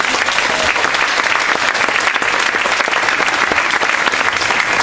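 Loud, sustained audience applause fills a school band concert, dense clapping from a large crowd continuing steadily throughout without talk.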